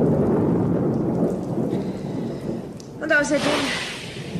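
Thunderstorm with rain as a sci-fi radio play sound effect: steady rain hiss under a German conversation, with a loud thunder crack rolling in near the end.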